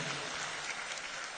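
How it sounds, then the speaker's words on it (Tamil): A festival crowd claps at a traditional family gathering in Puthanthurai–Koottappuli, a dense, steady wash of many hands held at an even level throughout the short burst. "எல்லாரும் ஜோரா ஒரு கைத்தட்டுக்கு பார்ப்போம்"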